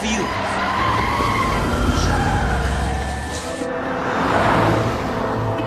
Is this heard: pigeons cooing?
no